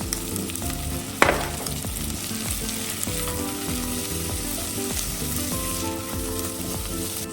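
Mushrooms sautéing in a pan with celery, a loud, steady close sizzle and crackle throughout, with spoon stirring and a sharp knock early on.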